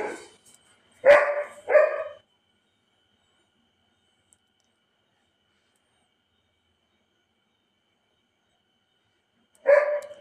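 A pet dog barking while playing indoors: a few short, sharp, close barks in quick succession, then a long silence before one more bark at the end.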